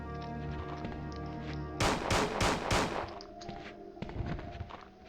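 Gunfire in Resident Evil 2 on the PlayStation: a low droning background breaks into a burst of four sharp, loud shots in quick succession, followed by fainter clicks and thuds.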